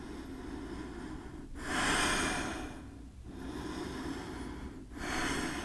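Slow, deep breaths during a yoga flow come as two long, airy exhale swells, close to the mic and separated by quiet inhales, with no talking.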